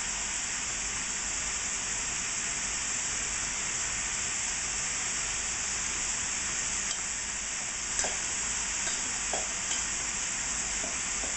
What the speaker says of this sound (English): I always like to spread my rice into a pile while it's still wet